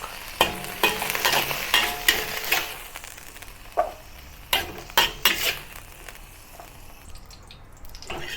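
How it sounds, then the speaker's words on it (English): Mixed vegetables are stir-fried in a hot wok, with a continuous sizzle punctuated by repeated rhythmic scraping tosses of the spatula against the metal, close and fairly loud, easing off near the end. "So I just add these two into the first three vegetables, have a few quick stir, and I'll then remove it from the wok."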